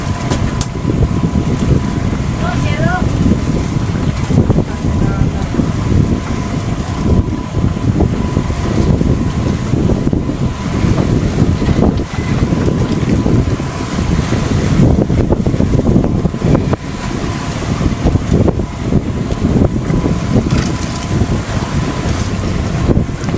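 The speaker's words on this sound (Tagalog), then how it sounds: "Hangin." Strong wind roars across the open Pacific Ocean, loud and continuous, with low rushing noise and gusts buffeting the microphone, no voices.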